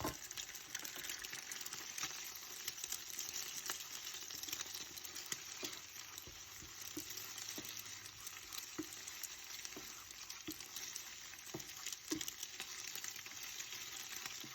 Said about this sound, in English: Break the yolks as they start to set, and stir until they are cooked through.